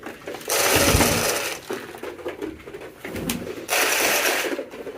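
Many pigeons coo and flutter at a pigeon market on a rainy day, with two loud surges of close cooing and bird noise separated by a quieter stretch; no one speaks.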